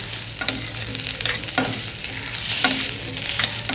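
Sweet potato slices fry and sizzle in ghee with a steady crackle, while a spoon scrapes and stirs them at intervals of roughly a second, close and fairly loud.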